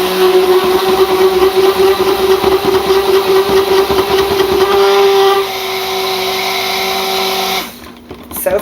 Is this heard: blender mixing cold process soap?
yes